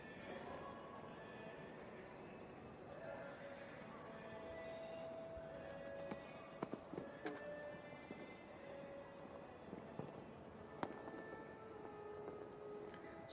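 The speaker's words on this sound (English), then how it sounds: "Doesn't feel like the biggest stepper, this horse." Hooves of a show-jumping horse on a competition course in Doha, soft rhythmic thuds at a distance under steady crowd and arena ambience, with brief sharp knocks and a faint whinny.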